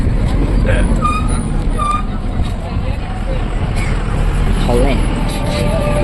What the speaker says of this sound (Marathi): मस्तपैकी गाडी निघणे लागत